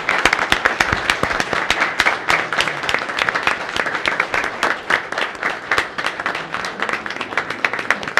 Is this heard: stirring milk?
no